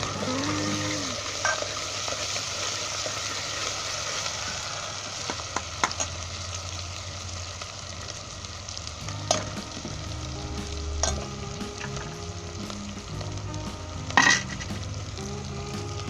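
Chopped onion, ginger and garlic sizzle steadily while being fried in a pot, with occasional clinks and scrapes of a stirring spoon over the constant hiss.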